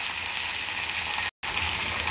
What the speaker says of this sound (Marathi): गवार मी तेलामध्ये छान परतून घेणार आहे.